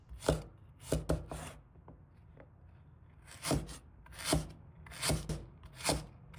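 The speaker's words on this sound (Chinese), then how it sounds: "把大蒜剥去外皮，生姜洗净刮掉老皮，两者都切成薄片就好" Peeled garlic and ginger sliced thin with a knife on a board, for a celery and king oyster mushroom stir-fry: bursts of sharp chopping taps, a quick cluster early, a pause, then several steady strokes, close and alone.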